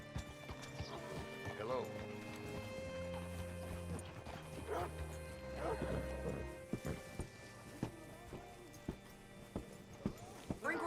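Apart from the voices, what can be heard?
horse hooves clip-clopping in a video game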